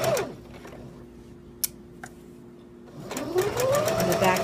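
A home sewing machine runs a back stitch on a simple fabric pad, a steady mechanical whir with a low hum, pausing briefly midway before resuming at speed, close and clear.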